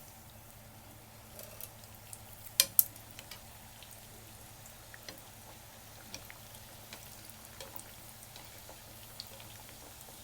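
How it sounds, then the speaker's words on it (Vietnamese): Dough for crispy Vietnamese fried breadsticks (quẩy) sizzling in hot oil, a faint, steady bubbling crackle scattered with small pops and one sharper double pop, with no talking. "Tiếp tục thì mình chiên cho hết cái phần bột này luôn."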